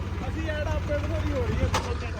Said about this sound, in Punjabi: ਸੱਤੇ ਵੀਰ ਐਂ ਦੱਸ ਹੁਣ ਤਾਂ ਟਰੈਕਟਰ ਚਲਾਇਆ ਕਿਵੇਂ ਲੱਗਿਆ ਤੈਨੂੰ